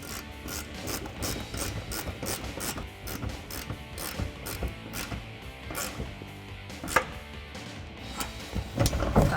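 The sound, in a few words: ratchet with 18mm socket tightening suspension bolts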